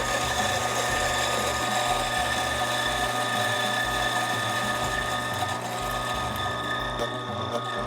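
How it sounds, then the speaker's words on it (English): A coffee grinder grinds a single dose of beans for a Bentwood Vertical 63 pour-over brew, a steady loud mechanical whir with gritty crunching that runs the full length without break. "I'm gonna dose out my coffee and then you'll see me grind it up"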